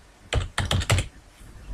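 A macro name is typed on a computer keyboard in a quiet room: three or four quick bursts of close, crisp keystrokes clustered in under a second, with no talking.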